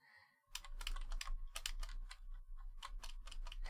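Typing on a computer keyboard during a Raspberry Pi setup, rapid clicking keystrokes in uneven bursts, fairly close, over a steady low electrical hum, with no talking.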